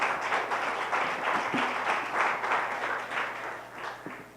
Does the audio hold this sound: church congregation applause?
yes